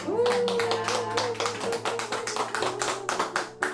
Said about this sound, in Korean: 오늘 나와주신 우리 권사님 위해서 박수 한번 보내주시죠